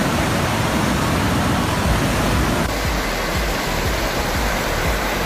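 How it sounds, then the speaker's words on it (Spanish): Constant roaring rush of a waterfall, broad and steady, with no voices or other sounds over it. "No, era la cascada."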